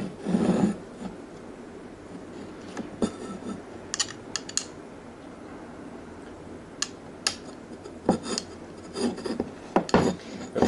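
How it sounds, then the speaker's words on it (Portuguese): A screw is driven by hand through the bed support of a Printrbot 1405 3D printer, giving intermittent rasping, scraping turns and small clicks with quiet pauses between them. "E aí eu tenho que parafusar, passar esse parafuso aqui até ele chegar nessa segunda peça de cá."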